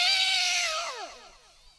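A human voice imitates two cats fighting on a rooftop, a single drawn-out wailing yowl that rises, bends, and trails off into a falling, strained cry, loud and close with no other sound.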